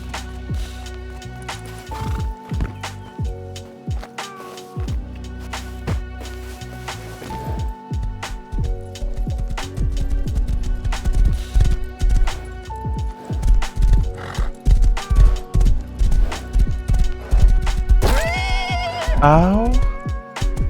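A horse in the survival game Rust clops along steadily, then gives a loud, rising and falling whinny near the end, over a busy in-game background.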